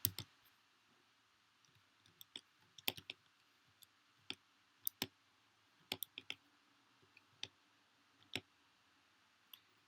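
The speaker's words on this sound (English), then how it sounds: "So let me type in those numbers." Numbers are punched into a calculator, making a quiet, irregular series of sharp button clicks spread over about ten seconds, with short pauses between keypresses and no talking.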